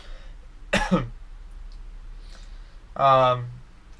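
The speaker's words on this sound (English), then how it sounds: "pardon me for coughing fit for some reason." A person coughs twice, a sharp harsh burst early on and a second, more voiced cough a couple of seconds later, close and alone against a quiet background.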